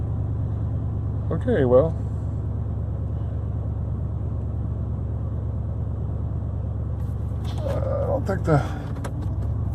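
Chevy Tahoe engine idling with a steady low rumble after a cold start following four months parked, running continuously while someone briefly speaks over it.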